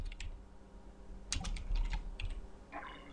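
Quick, light clicks from a computer keyboard come in short, uneven bursts, with a few louder key strikes, close and clear against a quiet room.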